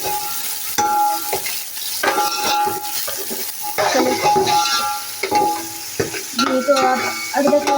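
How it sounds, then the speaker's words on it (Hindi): Ginger garlic paste frying with onions in a pot, a steady soft sizzle under repeated stirring scrapes and light clinks of a spoon against metal, close and moderately quiet. "अदरक लहसुन का पेस्ट आ गया, इसको हम थोड़ा सा पका लेंगे।"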